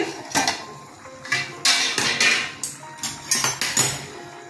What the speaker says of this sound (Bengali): 2 মিনিট পর ঢাকনাটা খুলছি।